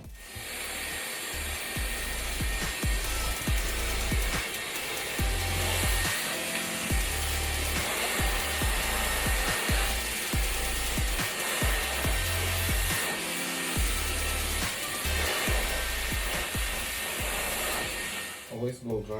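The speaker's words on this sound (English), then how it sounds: "Always blow dry upward." A handheld hair blow dryer runs steadily and loudly throughout, blowing air while a section of hair is dried upward during an at-home blowout, its constant whoosh dropping away only at the very end.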